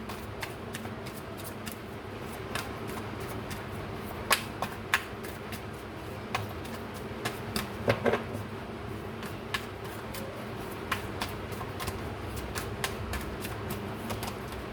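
Tarot cards being shuffled and drawn, giving soft papery riffles and scattered light ticks and snaps, fairly faint and close, with no talking.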